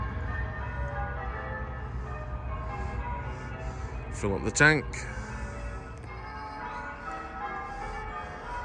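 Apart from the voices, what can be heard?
church bells ringing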